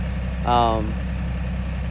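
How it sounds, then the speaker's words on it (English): A farm tractor fitted with pallet forks idles in a steady low rumble throughout, with a brief voice breaking in near the start. "this is a super good tractor."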